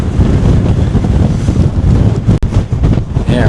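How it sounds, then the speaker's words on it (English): Strong wind roars steadily across the open bow of a cruise ship, a loud continuous buffeting rush that batters the microphone throughout with no break. "it is extremely windy out here"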